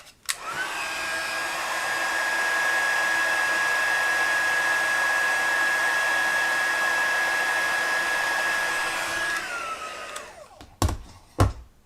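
A heat tool blows steadily for about nine seconds, melting gold embossing powder on a card, with a constant whining hum and airy rush that cuts off near the end, followed by a few faint knocks.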